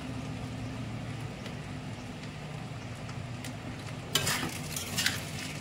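Chilli, turmeric and cumin powder fry in a pan for parwal pulao, a soft, steady sizzle over a low hum, with a few louder stirring scrapes and clatters near the end.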